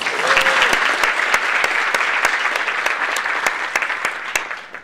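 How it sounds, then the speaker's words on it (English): Steady applause from a sizable audience, dense clapping that holds at an even level for several seconds before slowly easing off. "So I think we need to give ourselves a round of applause."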